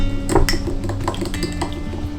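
A spoon stirs raw tahini in a glass jar, giving a series of close clinks and pings against the glass with soft scraping between them.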